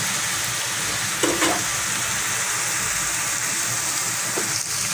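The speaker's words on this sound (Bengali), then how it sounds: "দেখুন আমি তাহলে কিছুক্ষণ আদা রসুনটাকে ভেজে নিচ্ছি" Ginger and garlic frying in oil with onion for a mutton kheeri bhuna, a close, even sizzle broken by a couple of spoon scrapes.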